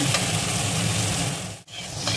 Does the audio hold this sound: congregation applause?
no